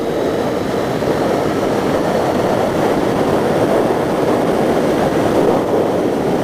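A Triumph Speedmaster classic cruiser motorcycle is ridden at steady speed, its engine blending into a constant, loud, unbroken roar of wind and road noise with no pauses.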